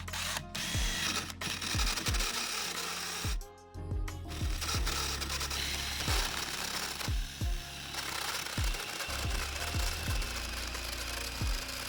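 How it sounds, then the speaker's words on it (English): A power drill with a plug-cutting bit whirs steadily while cutting round plugs from wood, with sharp clicks and knocks as the bit catches and the work shifts. "We cut out round plugs of the required diameter with a special drill bit."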